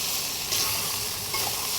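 Banana flower curry (mochar ghonto) frying in a pan, a brief, loud, even sizzle with a bright hiss throughout, no talk.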